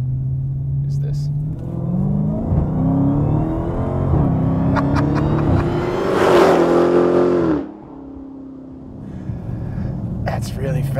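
A 707-horsepower 2015 Dodge Challenger SRT Hellcat accelerates in a third-gear roll-on, its loud engine roar climbing steadily in pitch for several seconds before cutting off abruptly, leaving a lower rumble.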